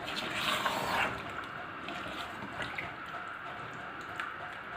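About one and a half glasses of water pour steadily into a pot of mutton curry, a soft continuous splashing and trickle with a few faint drips, close by and quiet.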